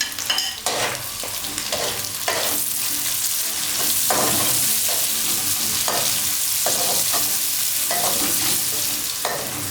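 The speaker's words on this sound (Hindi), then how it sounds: "हल्का सा ब्राउन करने के बाद हमने इस पर कटी हुई प्याज डाली है।" Chopped onions frying in hot oil for a dhaba-style daal maash, a loud continuous sizzle broken by regular scraping strokes of a spoon against the pot, nobody speaking.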